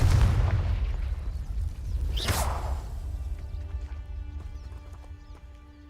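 A Confringo blasting spell goes off in Hogwarts Legacy: a loud boom with a rushing whoosh at the start, a second bright burst midway, then a fading rumble over steady game ambience.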